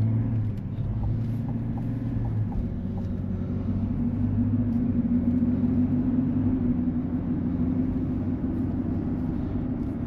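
A 3.0 Duramax diesel truck driving during a regeneration cycle, a steady low engine drone and road rumble heard from inside the cab, with a faint hum rising slightly in pitch midway.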